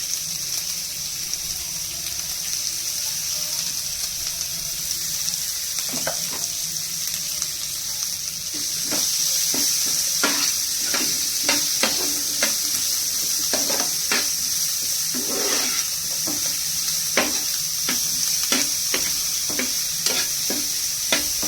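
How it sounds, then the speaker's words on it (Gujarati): Onions and spices sautéing in a pan, a steady sizzle broken by repeated scraping stirs that come in quick, irregular strokes, louder in the second half. "આ બધું આપણે થોડીક વાર માટે સાંતળી લેવાનું છે."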